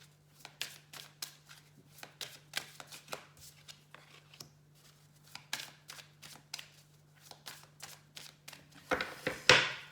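Tarot cards are shuffled for a reading, giving a series of crisp riffling slaps and flicks in uneven bursts, close and fairly quiet, ending in a louder flurry of card handling.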